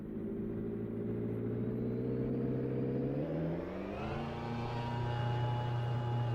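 McLaren 650S GT3 race car engine running in the Assetto Corsa racing game at Sebring International Raceway, a steady idle drone that rises smoothly in pitch as revs climb, moderately loud and continuous.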